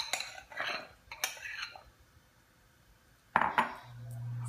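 Black beans tumble into a large container for a Mexican caviar mix, giving a few separate soft clattering pours and clinks, close and moderately loud, with a short pause before a final louder scrape.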